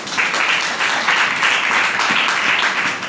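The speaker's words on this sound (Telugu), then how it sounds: "చప్పట్లు కొట్టండి" Church audience at an Easter service breaking into loud, sustained applause, dense overlapping claps from many people filling the room evenly from start to finish with no speech over it.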